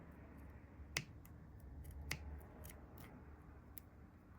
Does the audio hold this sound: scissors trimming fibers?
yes